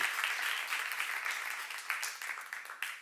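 A church congregation applauds during a sermon, a dense burst of many hands clapping together that fades unevenly over a few seconds.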